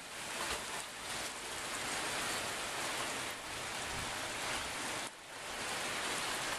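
Heavy rain pours down in Oregon in a dense, continuous hiss, steady and close, with no voices.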